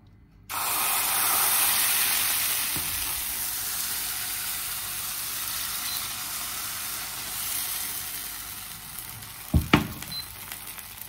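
Pancakes fry in oil in a pan with a steady, close, continuous sizzle that begins abruptly and holds, then a couple of sharp utensil clatters near the end.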